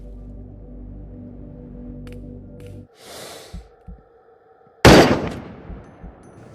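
A single loud, sharp rifle shot from an SVD/PSL in the VR game Into the Radius cracks out after a low humming stretch, followed by a fainter earlier report and trailing echo.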